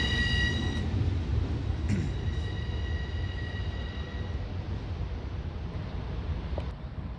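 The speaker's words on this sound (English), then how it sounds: "This train's also running with 10 cars" A Long Island Rail Road train of 10 cars rolls steadily past at moderate distance, a continuous rumble of wheels on track with faint squeals early on.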